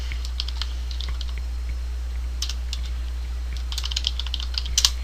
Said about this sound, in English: when you type in your clip name